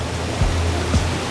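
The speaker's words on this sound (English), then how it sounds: "the river's flowing" A river flows in the courtyard of a medieval manor in Portugal, a steady broadband rush that carries on throughout.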